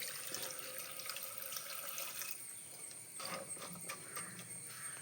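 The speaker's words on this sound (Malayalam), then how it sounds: "ആവശ്യത്തിന് വെള്ളം ഒഴിച്ച് കൊടുക്കാം." Water is poured into a cooking pot holding elephant foot yam and raw plantain for Kannur-style koottukari. The faint, continuous splashing and trickling is heard alone, with no talk.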